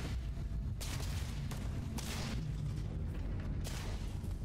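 Gunfire aimed at the player in the video game Starfield, a rapid series of heavy booming shots and bursts over a constant low rumble, several sharp cracks standing out, with no talking.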